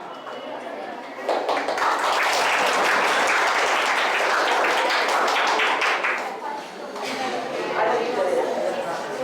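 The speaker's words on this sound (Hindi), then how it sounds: "तो जोरदार तालियों से सीनियर ने जूनियर का हौसला बढ़ाया।" Senior students give loud applause to juniors at a school quiz, a dense burst of clapping that rises after a second, sustains for several seconds, dips, then picks up again, with chatter and voices mixed in.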